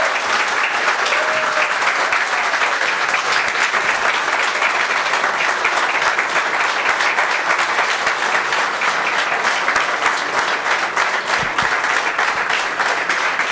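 A large audience at a book launch applauds a cricket family, a long, even roar of many hands clapping that holds steady and loud from start to finish.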